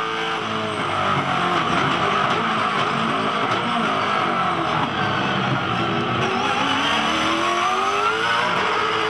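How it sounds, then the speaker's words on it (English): A V8 touring car at race speed in a Supercars race in Tasmania roars loud and close, engine note climbing steadily and shifting through a gear change, with no talk over it. "That's that gear change we've been referring to."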